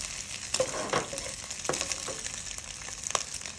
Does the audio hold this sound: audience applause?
no